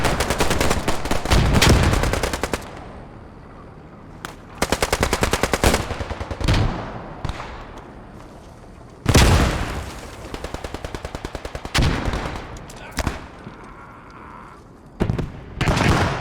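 Automatic gunfire during a competitive online shooter match, arriving in several loud, rapid bursts separated by short pauses, with some heavy single shots and quieter stretches between.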